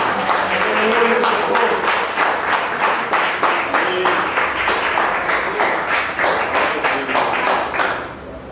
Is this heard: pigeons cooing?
no